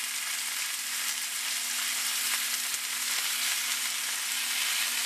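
Beef rollups held together with toothpicks brown in a frying pan with a continuous, even sizzle close by, heard alone with no voices.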